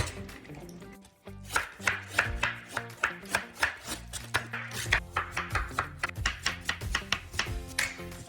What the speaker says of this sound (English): so cabbage is shredded, white and red.